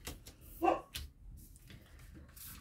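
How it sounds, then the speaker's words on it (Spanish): A small pet dog barks indoors. There are one or two short, sharp barks at moderate loudness, set in a quiet room with faint background noise. "Ahí ladró mi perrito, Kaiser."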